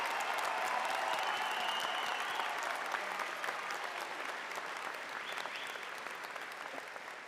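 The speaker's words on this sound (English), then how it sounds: "Everybody clap for these guys." Sustained applause from a large crowd at a University of Calgary convocation ceremony, steady and loud throughout, with a few cheers and whistles rising above the clapping.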